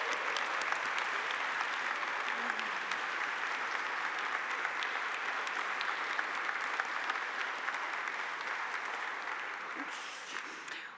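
A church congregation applauds warmly for a newly welcomed reverend, a steady dense wash of clapping that holds evenly for several seconds before tapering off at the end.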